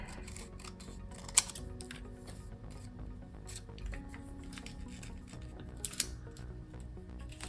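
Paper pieces for an HO scale model house are trimmed from the top, leaving faint, close snips and a couple of sharp clicks against a quiet room hum.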